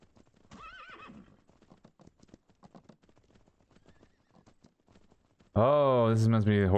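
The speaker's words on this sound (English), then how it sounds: "Oh, this must be horses out here," Horses in the video game Myth of Empires: a brief voice near the start, then light, scattered hoof clip-clops, and finally a loud, close neigh that fills the last second.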